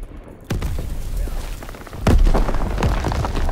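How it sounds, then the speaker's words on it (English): Two grenade explosions in Call of Duty WW2, a first deep boom followed by a louder, heavier thud about a second and a half later, with rumbling battle noise after. "Another grenade out."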